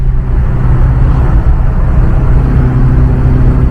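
Steady, loud interior rumble of a car cruising on a freeway past Saarbrücken on Road 6 toward France, with continuous low engine and road noise and no voices.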